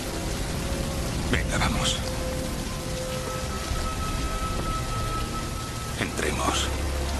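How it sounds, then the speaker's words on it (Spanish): Steady rain pours down outdoors with continuous hiss, while brief louder rumbles break through. People speak over the downpour. "no te quedes bajo la lluvia, vas a coger una pulmonía."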